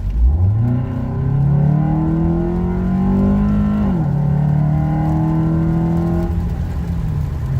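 A 2012–2018 Ford Focus 2.0L engine fitted with an RTunes cold air intake revs up loudly and close by, climbing in pitch, briefly dipping between gears, then holding a steady high drone.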